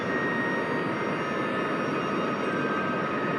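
Steady, loud roar of a rocket engine at full throttle in a space flight video game bound for the Moon, a constant broadband rumble with a faint high whine, unchanging throughout.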